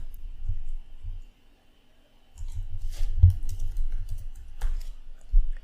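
Soft, rapid keystrokes on a computer keyboard come in two bursts with a short pause between, faint and close, as CSS is typed in, with no talking.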